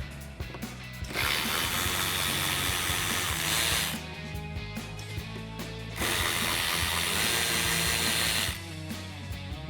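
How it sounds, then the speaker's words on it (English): A ratchet fitted with a 7mm socket backs out screws in the rear wheel well of a 2021-2023 Ford F-150, giving two long bursts of rapid clicking separated by quieter handling, close and crisp. "So we've got our 7mm socket on our ratchet."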